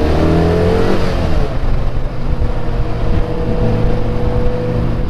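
A white Toyota Chaser, a widebody Nissan Micra and two Caterhams drive past in a car park, loud close engine revving and accelerating, one car roaring hard before the sound settles into overlapping engine drone.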